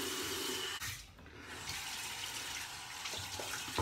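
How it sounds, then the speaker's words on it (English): Water splashing and running, as from a tap into a sink, while a man rewets his face mid-shave; a steady close wash of water with a brief lull near the start, no talking. "So let me moisten my face again, or put on some more water."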